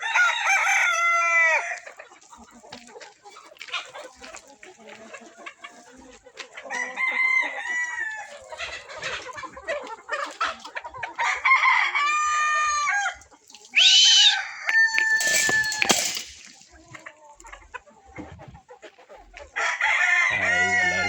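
Roosters raised for market on a farm, crowing in several loud, drawn-out calls spaced through the scene, mixed with scattered clucking and occasional brief talk in between.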